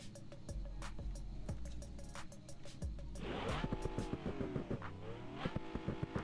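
Car exhaust in the BeamNG driving game, a continuous engine drone with rising and falling revs and tire noise that grows busier and louder in the second half, heard with no talking.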